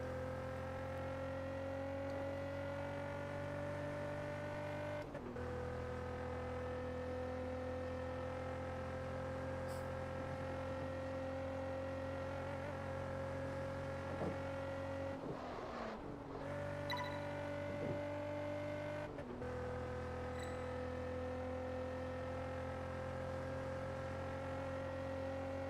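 A car engine in Test Drive Unlimited 2, running the Project Paradise 2 online mod, drones steadily and loudly. Its pitch jumps at a few gear-change-like breaks, with no talk over it.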